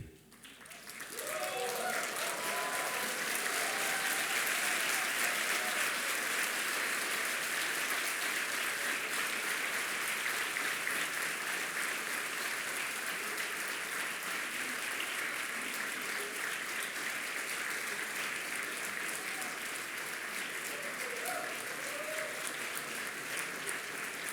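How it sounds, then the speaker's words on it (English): Sustained, dense applause from a seated audience at a graduation-style opening address, lasting over twenty seconds and rising quickly before holding steady, with faint voices mixed in. "give an applause to everybody who's here to support you"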